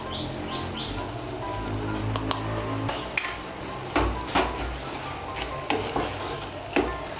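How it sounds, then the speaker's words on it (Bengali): Garam masala powder is stirred into mixed dal tarka in a pot, a spoon scraping and clacking against the metal in irregular knocks over a soft background sizzle. "গরম মশলার গুঁড়োটাও ভালো করে মিশিয়ে নেব।"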